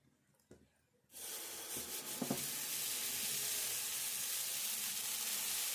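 Thick dosa batter hits a hot pan and breaks into a loud, steady hiss close up, holding at full strength without a break after a few quiet clatters, with no talking.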